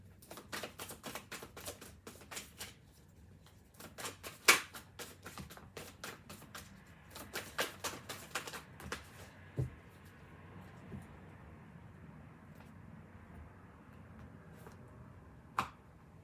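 Tarot cards are shuffled and drawn in a burst of crisp, rapid riffling taps and flicks, then fewer scattered snaps and soft slides against a quiet room, close and clear, with no talking.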